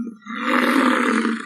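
A deep, sustained growl from an American bison, used as a T-Rex vocalization, rumbles loudly and close for over a second after a brief dip, with a rough, throaty buzz and no talk.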